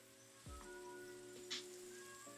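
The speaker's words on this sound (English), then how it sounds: "And of course it's raining." Minecraft rain falling in the game world, a faint steady patter under soft in-game tones, with a brief louder splash midway.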